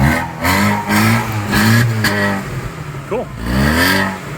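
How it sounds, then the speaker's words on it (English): A car engine running a stock muffler and silencer with no catalytic converter revs loudly and close by, rising and falling in several raspy pulls, with a brief spoken word in between. "it's got a little bit of rasp now with a stock muffler and a silencer, but it has no catalytic converter now"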